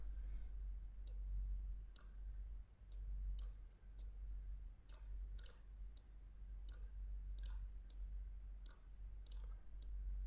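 Faint, sharp computer mouse clicks during a CorelDraw tutorial, about a dozen single and double taps spaced irregularly over a low steady hum.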